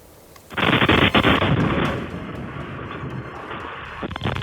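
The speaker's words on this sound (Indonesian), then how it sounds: "rekaman yang memperlihatkan momen ledakan yang diklaim terjadi saat operasi militer Amerika Serikat" An explosion in Tehran during a US military operation, caught on CCTV inside a car dealership: after a quiet moment a sudden loud blast bursts out, followed by a long roaring rumble that slowly fades.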